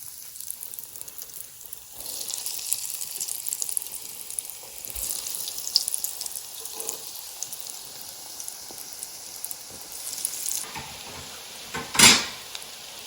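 Mac and cheese balls deep frying in hot oil in a wok, giving a steady, close sizzling hiss throughout with a brief louder burst of crackling near the end.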